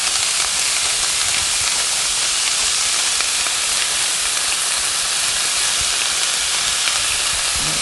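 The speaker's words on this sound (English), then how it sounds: "we're just gonna saute these onions and celery" Onions and celery sautéing in a pan as part of a turkey stuffing, a continuous loud hissing sizzle that stays even throughout with no pauses or voices.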